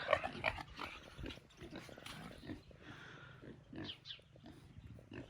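Pigs lying out in the sun on a farm grunt and snort close by, in a series of low irregular grunts mixed with a few higher squeals.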